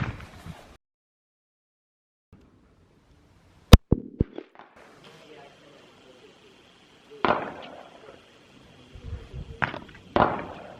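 Sharp, isolated shots from a Smith and Wesson 9mm pistol crack out at a firing range, several loud reports spaced irregularly with quiet gaps and faint noise between them.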